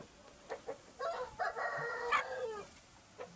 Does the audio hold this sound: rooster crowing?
yes